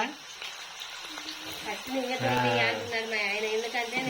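Bitter gourd pieces going into hot oil produce a soft, continuous frying sizzle under a voice speaking throughout.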